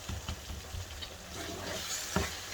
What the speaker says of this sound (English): Mix it in properly.